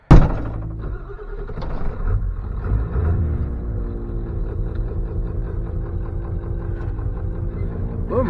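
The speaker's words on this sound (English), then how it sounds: "That blower motor doesn't sound too happy" The blower motor of an F600 truck runs rough: a thunk, then a continuous droning hum with a low rumbling undertone, close and steady, with no talk.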